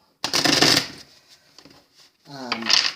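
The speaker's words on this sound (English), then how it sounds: "I gotta shuffle out the energy from pot 2" A tarot card deck is shuffled close up in two bursts of riffling, rapid papery flicks separated by a short pause, with a voice talking partly over them.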